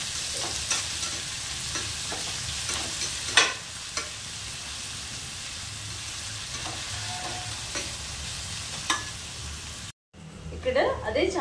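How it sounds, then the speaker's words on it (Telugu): Onions fry in a kadai for fish curry, a steady close sizzle punctuated by occasional spoon clinks and stirring scrapes, cutting off briefly near the end before a few faint sounds return. "ఈ ఉల్లిపాయలు బాండీలో వేసుకొని నైట్ గోల్డెన్ కలర్ వచ్చేలాగా మనం మంచిగా ఈ ఉల్లిపాయలు"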